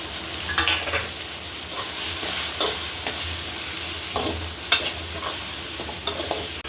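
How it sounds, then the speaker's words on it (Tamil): Tomatoes and green chillies sautéing in a pan make a continuous close sizzle, broken by regular spatula scrapes and stirs that come a little louder now and then. No voices are heard. "தக்காளி 2 தக்காளி எடுத்து வச்சுருக்கேன், அதையும் போட்டு நல்லா வதக்கிக்கலாம்"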